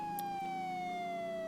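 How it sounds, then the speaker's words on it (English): A police boat siren in the game Dynamic Ship Simulator III wails as a steady, slowly falling electronic tone with harmonics, held continuously and clear with no talking. "you can hear the siren"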